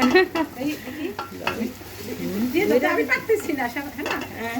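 Rice being stirred in a pot while making khichuri, soft scraping and light sizzling strokes under close conversational voices throughout.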